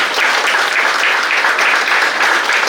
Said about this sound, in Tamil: போத்தீஸ் ஸ்வர்ணமகால் நிறுவனத்துக்காக ஒரு பலத்த கைத்தட்டல் கொடுக்கலாம்.